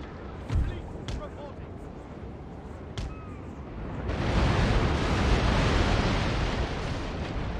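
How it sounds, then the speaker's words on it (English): Ship cannons fire during a naval battle in the video game Napoleon: Total War involving an 80-gun third-rate ship. A few sharp booming shots come first, then a dense, continuous roar of broadside fire and impacts. "any cannons that are missing are actually hitting the units behind"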